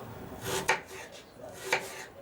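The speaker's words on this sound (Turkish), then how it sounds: "bir adet orta boy soğanı da küçük küçük doğruyorum" A knife taps against a cutting board in two crisp chops, about a second apart, finely chopping an onion, over faint background noise.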